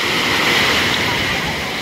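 Atlantic Ocean waves rolling in at Myrtle Beach, a loud, continuous roar of surf and rushing water with wind buffeting the microphone.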